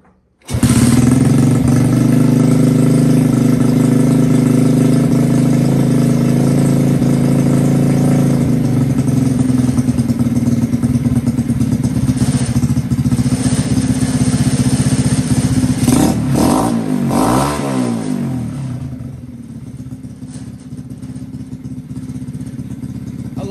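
Honda CT70 chopper motorcycle engine starting and running on a carburetor during a build, a loud steady close-up putter with a burst of revving near the end before settling to a lower idle, no talk.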